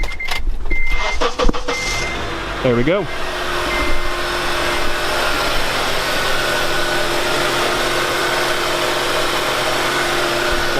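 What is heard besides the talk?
Honda Element engine starting with new battery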